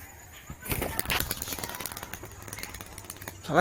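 A Madras pigeon with clipped wings flaps in a loud, rapid flurry that starts abruptly and continues in fluttering bursts, with a louder thump at the very end.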